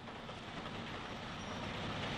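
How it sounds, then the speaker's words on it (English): Narrow gauge tank locomotive number 4 Meenglas of an Irish railway arriving with a goods train from Stranorlar: a steady, dense rumble and rolling roar of the train, continuous and unbroken. "264 tank number 4 Mean Glass arrives with a goods train from Stranorlar"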